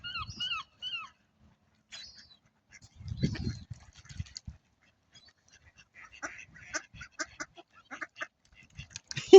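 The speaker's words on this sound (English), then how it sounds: "And now we have the arrival of the duck squad." A flock of ducks quacks in short bursts, loud at first and again in clustered calls near the end, with a low thump midway and quiet gaps between.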